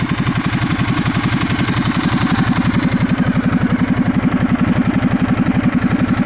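A Ducati Multistrada 1200S Touring engine idles close by with a fast, even, thumping pulse that holds steady throughout, mechanical clatter riding on top.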